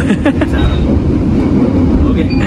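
A new-stock KA Pasundan passenger train runs on the rails, heard from inside: a loud, continuous low rumble with rolling wheel noise and faint metallic squeals, steady throughout.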